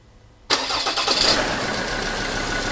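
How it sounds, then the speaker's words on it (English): A Ford Ranger / Mazda BT50 3.2 or 2.2 diesel cranks and fires after a half-second of silence, then settles into a steady, close, loud diesel idle. "Let's start the car."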